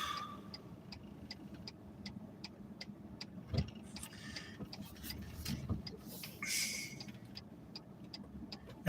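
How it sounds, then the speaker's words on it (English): Cars in evening rush-hour traffic pass and turn at a distance, a faint low road rumble with a steady ticking, likely a turn indicator, and soft swells as vehicles move through. "That's a lot of cars making a right-hand turn."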